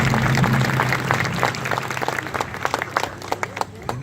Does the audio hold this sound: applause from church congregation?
yes